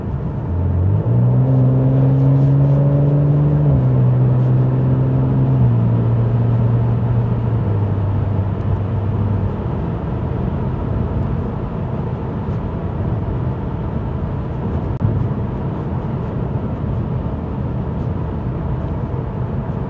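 A car drives in automatic comfort mode with a steady, loud cabin rumble, the engine note rising through a few gear changes early on, then settling into an even drone.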